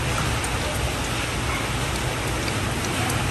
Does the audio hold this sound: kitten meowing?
no